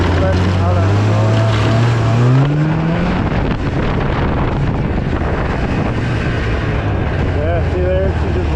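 A Ford F570 truck rolls along on a test run after a brake repair, its engine droning loudly with wind buffeting the microphone, a rising whine of gear change early on and talk faintly underneath.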